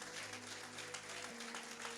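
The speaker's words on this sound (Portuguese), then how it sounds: "Se você crê, aplauda o Senhor Jesus Cristo." Steady applause from a large church congregation during a worship service, a dense wash of clapping that continues throughout with a low hum underneath.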